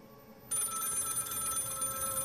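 A telephone bell starts ringing abruptly and keeps up a continuous trilling ring, fairly faint, alone in a quiet room at night.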